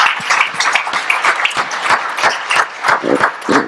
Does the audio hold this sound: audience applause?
yes